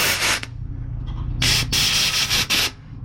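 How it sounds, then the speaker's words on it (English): Pulling the drain plug on a trailer's air tank releases short, sharp hissing blasts of escaping air, close by, three bursts in quick succession over a low steady background hum. "Just give the wee drain plug a wee pull."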